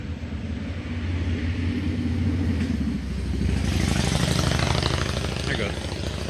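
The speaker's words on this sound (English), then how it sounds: "here comes the motorcycle" A motorcycle passes by outdoors, its engine rumble rising to a loud throaty roar and then fading away, with a person talking over it.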